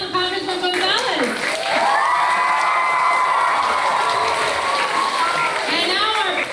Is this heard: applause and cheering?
yes